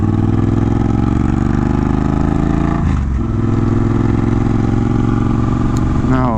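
A 2022 Triumph Bonneville Bobber motorcycle engine drones steadily and loudly while being ridden, a continuous close rumble that briefly dips around the middle before the revs climb again near the end.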